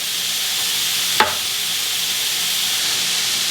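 Onions for vegetarian stuffed cabbage rolls frying in a pan, a constant close hissing sizzle with one brief sharp scrape or clink near the start, no voices.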